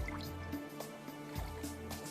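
Water is poured into a blender jar holding yogurt, tomatoes and green chilies, giving a faint close pour with soft dripping and squishy liquid sounds over about two seconds.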